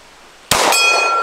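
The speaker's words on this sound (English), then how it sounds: "I'm gonna try to go for the top far gong" A single pistol shot from a Glock 19X strikes a steel gong target, giving a sharp loud clang that rings on with a clear metallic tone for a moment before fading.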